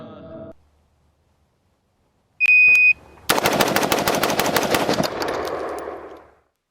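An M4A1 carbine fires a rapid burst of sharp, loud shots at close range, set off after a short beep and silence, before the sound trails away.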